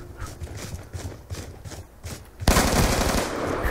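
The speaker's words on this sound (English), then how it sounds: "I shoot you again, pow." Rapid bursts of gunfire from the video game Black Ops 2, repeated pulses through the first part, then a denser, louder sustained barrage in the final second and a half, with no talk.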